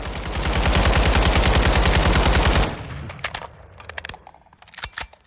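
An AK-104 rifle firing full-auto in Call of Duty Modern Warfare II, a rapid loud burst of evenly spaced shots lasting over two seconds, then a few scattered clicks and clacks afterward.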